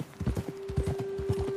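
Horse hooves clip-clop in a steady walking rhythm in Red Dead Redemption 2, close and moderately loud, with a constant tonal hum running beneath and no talk over them.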